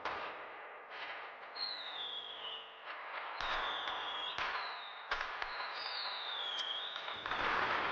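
Fireworks lighting up a night sky in Korea on a birthday, a run of sharp bursts, each opening into a hissing crackle with long whistling tones sliding over it, fairly loud and continuous.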